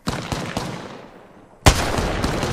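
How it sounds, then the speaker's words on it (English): Gunfire in a battle royale shooter game: a few rapid shots, then a loud, sharp blast that rings out, heard close and punchy. "Getting shot at."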